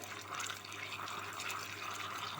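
A pot of greens boiling on the stove, with a faint, continuous bubbling and watery hiss that holds steady throughout.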